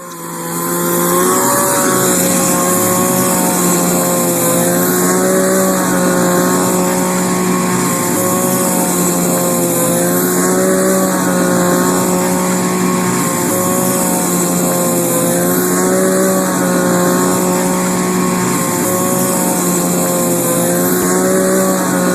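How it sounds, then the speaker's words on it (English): Two-stroke hedge trimmer running continuously on a school campus, a loud, sustained buzzing engine drone with a high whine and slight wavering pitch throughout. "Here's a video of a two-stroke hedge trimmer being used at a LA Unified School District campus pre-COVID."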